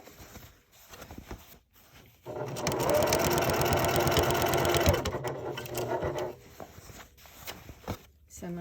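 A sewing machine stitches a tote bag made from upcycled denim jeans in one steady run of about three seconds, bracketed by quiet handling noises and soft speech.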